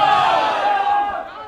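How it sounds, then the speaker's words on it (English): A loud crowd roars at a Gaelic football match between Truagh and Latton, a dense swell of cheering voices that peaks early and gradually fades over a second and a half. "It's great to hear the crowd, the roar of the crowd."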